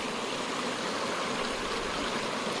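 Fresh spring water seeps and flows out of a hillside source in a forest, making a steady, continuous rushing trickle throughout with no voices.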